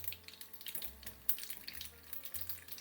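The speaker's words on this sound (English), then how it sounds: "the oil's nice and hot, so what you do is you put the mustard seed and the kalonji first" Mustard seeds and kalonji sizzle in hot oil, a soft steady crackle with tiny pops scattered throughout, close and fairly quiet with no voices over it.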